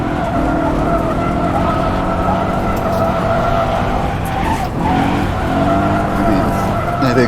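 A BMW M5 drifts in the rFactor2 racing sim, its engine droning steadily under long, continuous tire squeal and skidding that barely lets up.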